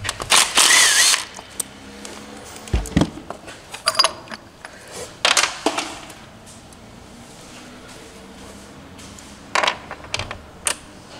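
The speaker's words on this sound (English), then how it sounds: "3/8 millimeter bolts for the oil filter." Hand ratchet backing out the small oil filter bolts on a CFMOTO CFORCE 800 ATV, heard as several short bursts of rapid clicking separated by pauses, close and fairly loud with no talking.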